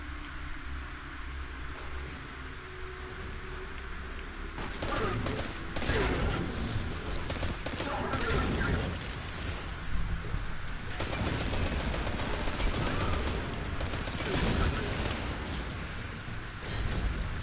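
Automatic rifle fire in the Destiny 2 video game, played as a warlock: after a quieter opening, dense sustained bursts of gunfire and blasts fill the rest of the stretch at steady loudness.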